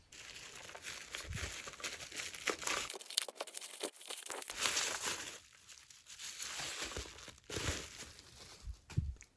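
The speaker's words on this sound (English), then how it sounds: "Think I'm gonna have to get the scissors for this one." Crinkling and tearing of a cassette tape's plastic wrapping as it is cut open with scissors, close up, in irregular rustling bursts with brief pauses and no talking.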